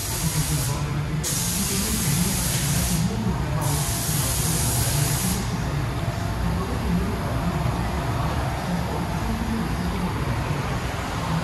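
A steady, loud hissing spray fills a van factory paint shop continuously, with a low mechanical rumble underneath.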